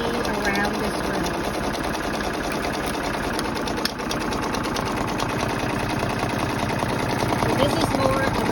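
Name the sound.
embroidery machine stitching satin stitch on jeans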